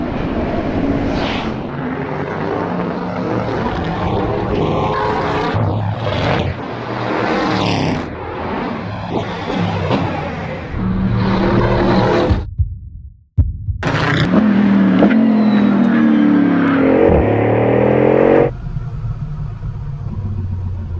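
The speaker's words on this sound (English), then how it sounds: "This car accelerates like nothing else I've ever experienced" A Bugatti Bolide race car roars loudly around a circuit, its engine climbing and shifting through hard acceleration with a brief cut in sound midway before surging again.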